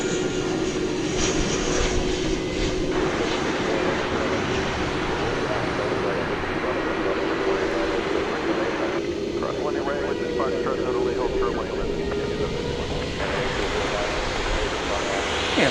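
An American Airlines Airbus A319 at Dallas Fort Worth Airport at night, a steady, loud jet engine roar running throughout beneath ongoing conversation.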